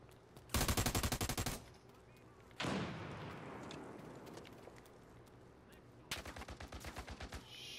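Gunfire and a grenade blast in the game America's Army: Proving Grounds, with a loud rapid burst of automatic fire, then a sharp explosion that fades into rumble, then another rattling burst of shots, close and dominant.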